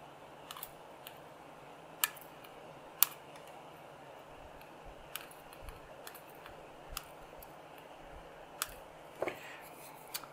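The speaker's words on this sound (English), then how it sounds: "I'm going to cut these leads out of the way." Wire cutters snipping component leads on a Dynaco ST70 tube amplifier kit driver board, sharp isolated clicks spaced irregularly over quiet room hum, one crisp snip at a time.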